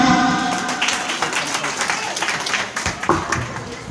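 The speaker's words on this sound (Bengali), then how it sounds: "জোরে হাততালি" Loud applause from the audience at a school's annual function, dense steady clapping that fills the hall and tapers slightly, with a voice faintly audible underneath.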